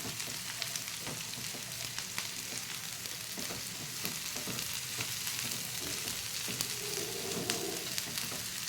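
Kankoda (spiny gourd) and besan curry frying and being stirred in a pan, a steady close sizzle with faint scraping of the spoon throughout, no voices.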